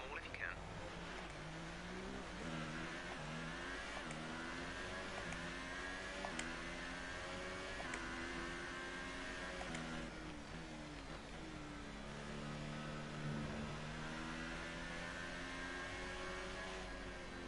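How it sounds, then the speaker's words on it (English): A Formula 1 car engine in F1 career mode whines steadily on a warm-up lap at the Belgian track, its pitch climbing and dropping in repeated steps through the gears for the whole stretch. "let's get the car up to temperature on this lap. We're learning the gears,"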